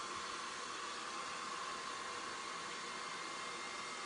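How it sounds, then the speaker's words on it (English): A hair dryer blows with a steady, even whoosh of air that holds constant throughout, with no other sounds. "So, let me get my hairdryer."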